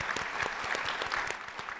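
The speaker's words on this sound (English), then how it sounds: "Let's give that a round of applause." Brief, moderately quiet applause from an audience at an environmental excellence awards celebration, a short burst of even clapping.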